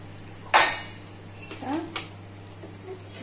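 A metal lid clanks sharply onto a pot of Chicken Kanti simmering on low flame, followed by a couple of softer knocks and faint rattles against a steady background hum.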